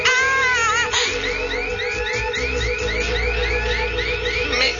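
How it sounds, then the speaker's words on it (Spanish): A supermarket security alarm blares continuously over a rapid warbling siren pattern, loud and close, with a low rumble underneath and no talk. "Me temo que has disparado la alarma del supermercado, Blitzy."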